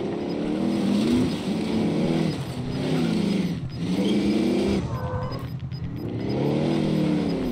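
A vehicle engine revving and surging in waves as it is driven in Call of Duty Warzone, pitch climbing and falling through several gear changes, loud and close with a short dip partway through.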